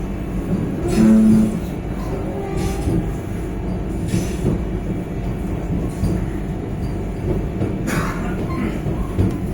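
Vande Bharat express train running from Dehradun toward Anand Vihar, a steady loud rumble of wheels on rails with occasional clacks and a faint squeal, heard from inside the coach.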